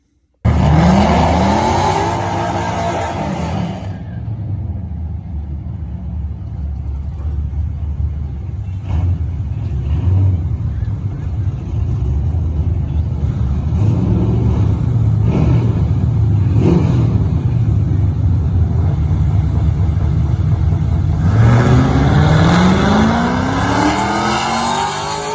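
A drag racing car at the strip holds a steady engine drone near 2,000 RPM, then the sound climbs into loud, rising acceleration that runs close and continuous with no talk.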